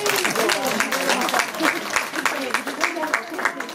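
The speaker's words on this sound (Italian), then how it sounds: "un applauso grande." Applause from the crowd at an ANFFAS association event in Carosino, Taranto, with clapping running under voices and cheering that rise and fall over a few seconds.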